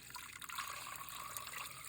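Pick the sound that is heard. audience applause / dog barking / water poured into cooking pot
water poured into cooking pot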